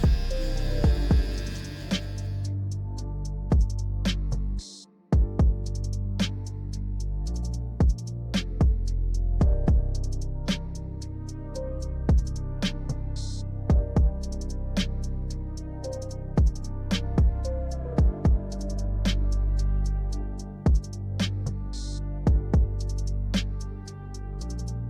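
An electric hair clipper runs with a steady low mechanical hum while debulking hair on a difficult texture during a barber's fade. Repeated soft thumps and brushing pulses come through, with a brief cutout near the start.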